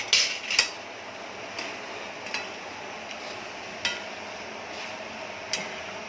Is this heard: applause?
no